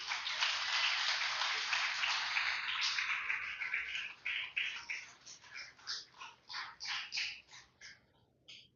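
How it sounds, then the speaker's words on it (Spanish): A church congregation claps loudly for the King, starting as a dense, sustained wash of applause and then thinning into slower, rhythmic hand claps in unison before fading. "Denle un fuerte aplauso al Rey"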